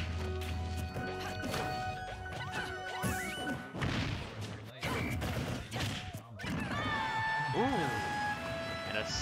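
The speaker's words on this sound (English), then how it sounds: "Slap with the purple Pikmin, we'll take the first stock." Sharp slapping hits and crashing impacts from a purple Pikmin attack in a Super Smash Bros. match, mixed with game effects and music under continuous commentary talk.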